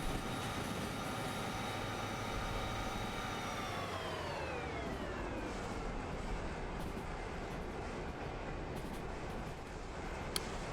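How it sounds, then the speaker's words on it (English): A locomotive in the train simulation game Derail Valley runs steadily on rails, a continuous loud mechanical roar with a tonal whine that slides down in pitch as the engine slows. "We just need to turn our engine around a little bit."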